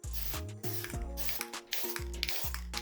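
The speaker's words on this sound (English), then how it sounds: "But I'm going to spray this with some dull coat here" Dull coat is sprayed from a can onto weathered rock work on a scenic model diorama. The spray comes as close, short hissing bursts with brief gaps between them.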